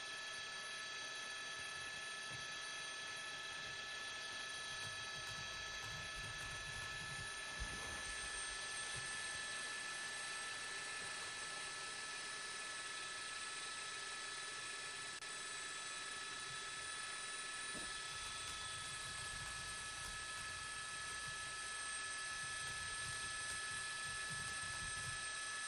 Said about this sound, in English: It's the helicopter blades.